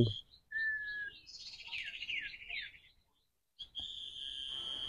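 A sunbird, a brightly coloured male, calls in sharp, high whistled chirps and trills, close and clear, in a few bursts broken by a brief silence.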